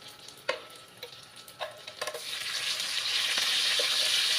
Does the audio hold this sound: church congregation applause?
no